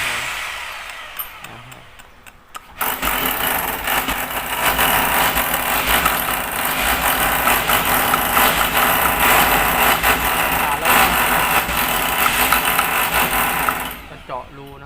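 A steady, loud mechanical drilling whine runs continuously for about eleven seconds as a hole is drilled in a pillar, starting abruptly and cutting off near the end, close by.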